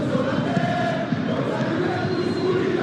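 Simulated stadium crowd at a Juventus versus Galatasaray Champions League football video game match, a dense, steady roar of many voices with chanting tones, loud and continuous throughout.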